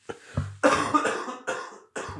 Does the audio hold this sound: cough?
yes